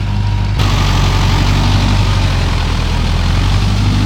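A Mahindra 585 special edition tractor engine runs at around 800 rpm while working in deep mud, producing a loud, close, steady low diesel drone that never lets up, with no voices.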